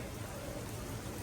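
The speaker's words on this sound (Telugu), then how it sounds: "ఇది వర్షం ఇంకా ఎక్కుతూనే ఉంది" Heavy rain falls steadily in a city's Chinatown, a dense continuous hiss of drops on surfaces with no voices, lasting about a second.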